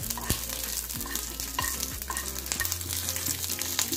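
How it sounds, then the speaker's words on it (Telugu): Curry leaves frying lightly in a pan while making peanut podi, with steady sizzling, scraping stirs and a few sharp clanks of a spatula against the pan, loud and close. "ఇలా కరివేపాకు కూడా యాడ్ చేసుకొని లైట్ గా ఫ్రై చేసుకొని"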